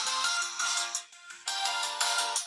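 A ringtone melody plays through the small twin speakers of a Headwolf WPad 2 budget tablet, a bright, repeating electronic jingle with rhythmic pulses and a brief dip midway.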